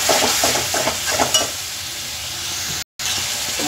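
Spice masala of ground coriander and cumin fries with a little water in a pan, a loud, close sizzle with scraping stirring strokes in the first half, then a steady hiss broken by a short silent gap.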